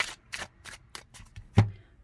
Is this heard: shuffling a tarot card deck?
yes